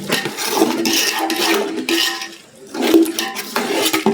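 Fish curry is stirred in a pot, giving wet sloshing and scraping swirls that come in surges with a brief lull midway, loud and close.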